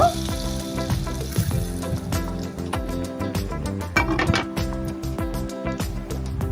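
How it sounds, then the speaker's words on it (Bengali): Garlic frying in hot oil to temper mashkalai dal gives a steady, close sizzle and crackle that runs throughout, with scattered sharper pops over it. "রসুনটা ভেজে নেব এখন বাগার দিয়ে দেব"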